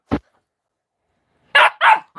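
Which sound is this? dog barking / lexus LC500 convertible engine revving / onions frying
dog barking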